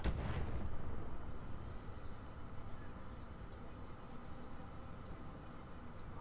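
Artillery fire in the video game Roguepoint opens with a broad booming blast, then fades into a long, steady rumbling roll with no voices.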